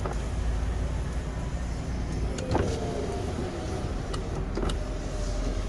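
Electric power window motor on a 2003 Honda CR-V 2.0 i-VTEC 4WD whirring steadily through its travel, with a couple of faint clicks near the end, close and fairly quiet inside the car.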